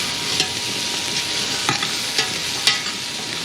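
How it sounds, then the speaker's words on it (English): Onions sautéing in a pan as the base of a tomato sauce, a steady broadband sizzle with a few brief clinks and stirs over the constant frying hiss, close and moderately loud. "we're just gonna let this saute for a few minutes and let the onions kind of caramelize"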